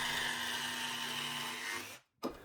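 A power tool cutting an arc into a plywood bracket for a 6-inch dust collector connector, a steady loud high-pitched whine with a grinding edge that runs for about two seconds, then cuts off abruptly before a short burst of noise.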